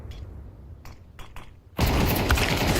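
HE grenade blast in Counter-Strike during a pro esports match: a few faint thuds early on, then a sudden loud explosion that roars and lingers to the end.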